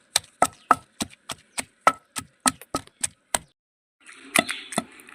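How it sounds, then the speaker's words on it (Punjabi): Raw mango chutney with onion being pounded in a wooden mortar and pestle, a steady series of about a dozen sharp, close thuds with a short pause, then a few more knocks over a rustling, scraping background. "ਇਹਨੂੰ ਆਪਾਂ ਉਦੋਂ ਤੱਕ ਮਤਲਬ ਕੁੱਟਣਾ ਜਦੋਂ ਤੱਕ ਵਧੀਆ ਬਰੀਕ ਜੀ ਨਹੀਂ ਹੋ ਜਾਂਦੀ"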